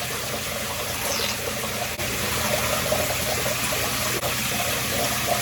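Running water from a shower rinsing off body wash, a steady even hiss and splash that continues without a break, close by, with no talking.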